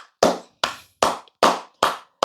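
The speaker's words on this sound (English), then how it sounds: "this deserves a round of applause" A round of applause: six sharp, loud bursts of clapping hands in a steady rhythm, close and alone with no talk.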